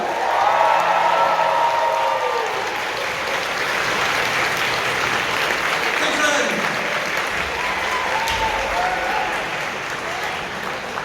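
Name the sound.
audience applause at kitacon closing ceremony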